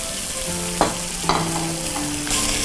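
Oil sizzles steadily in a hot frying pan while an omelette is made, with a few sharp scraping stirs from a spatula cutting through the constant frying hiss.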